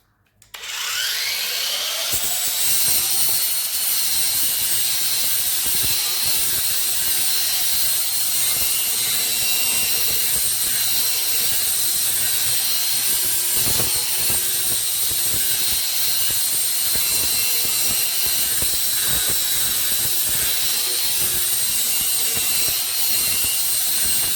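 An Ozito 18V cordless angle grinder spins up abruptly and then sands wood with a loud, steady high-pitched whine, the grit grinding and scraping against the surface in irregular rough patches, close up and continuous with no talking.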